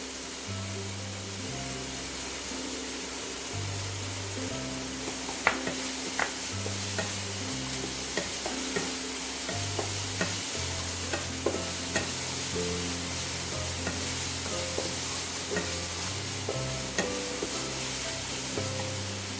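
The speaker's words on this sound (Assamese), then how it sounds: "এয়া চাওকচোন মই কেনেকৈ ভাজি আছোঁ" Grated coconut fried in a pan with ginger-garlic paste makes a steady, close sizzle with intermittent scraping and stirring clicks from the spatula, continuing evenly with no talking.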